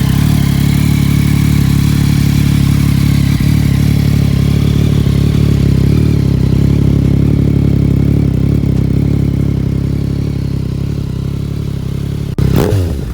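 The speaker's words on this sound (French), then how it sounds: "j'ai mis en route la moto pour vous faire écouter le son du Akrapovic carbone" A 2020 Yamaha MT-09 SP motorcycle with an Akrapovic carbon exhaust idles loudly and close by with a deep, steady throbbing rumble, ending with a brief clatter.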